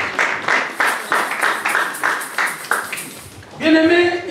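A church congregation applauds the Word, a run of rhythmic group clapping for about three seconds in a reverberant hall, giving way to a sustained sung or shouted tone at the end.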